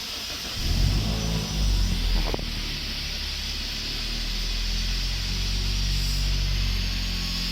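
A Toyota engine, on a car with ABS, VSC and TRC warning lights stuck on, cranks for a couple of seconds and then settles into a steady, close idle hum with light wind noise.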